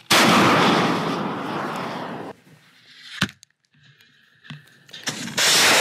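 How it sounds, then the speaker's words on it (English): A Javelin shoulder-fired anti-tank missile launches with a loud roaring blast that fades into quieter rumbles and a sharp crack, followed by distant bangs and another burst of roar at the end. "These are shoulder-fired, very easy to use anti-tank missiles."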